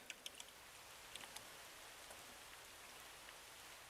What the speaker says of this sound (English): It always rains.